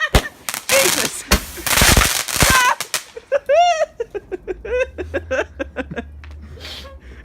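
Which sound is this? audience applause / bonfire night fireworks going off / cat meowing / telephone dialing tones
bonfire night fireworks going off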